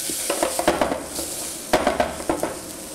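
Sugary vegetables stirred in a hot pan as they catch and stick to the bottom, giving a steady sizzle broken by a few clustered scrapes and knocks of the spoon.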